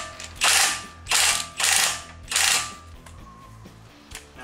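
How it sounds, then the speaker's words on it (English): A ratchet wrench tightens a bolt on a 2-inch MFC Offroad lift kit, four quick clicking bursts at close range in a steady rhythm, followed by quieter handling, with no talking. "We're going to get it tight, and then we're going to torque it."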